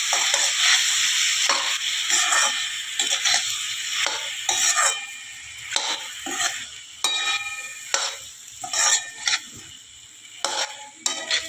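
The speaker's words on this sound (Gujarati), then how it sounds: "એને હલાવી દઈશું, બરાબર મિક્સ કરી દઈશું મસાલા સાથે." A spoon scrapes and clinks against a pan while ridge gourd curry with masala sizzles and is stirred, in steady repeated strokes, close and clear with no talking.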